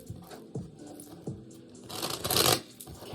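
Tarot cards are shuffled by hand in a few soft taps and riffles, ending in a louder, brisk ruffling burst, close and with no talk.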